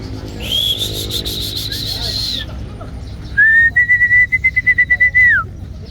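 Someone whistles two sustained notes, first a wavering tone, then a steadier, pulsing one, over a low rumbling background.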